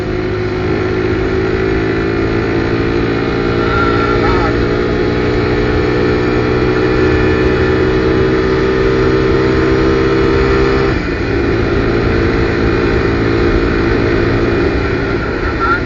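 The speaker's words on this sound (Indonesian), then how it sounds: "mau ngegas sedikit di sini boleh" Motorcycle accelerating along a road, its engine a loud, continuous drone heard from the rider's position with wind noise, pitch climbing gradually and a brief dip near the end.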